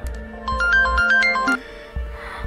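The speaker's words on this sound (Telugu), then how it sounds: "నేను చేసిన ఫోన్ కాల్" A mobile phone ringtone plays a bright, melodic electronic tune for about a second and a half, with low thumping sounds underneath and no voices.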